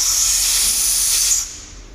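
Compressed air hisses loudly and steadily from a draining air compressor tank, then cuts off abruptly after about one and a half seconds, leaving a quieter background.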